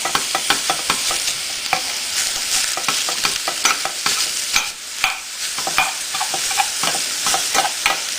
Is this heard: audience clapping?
no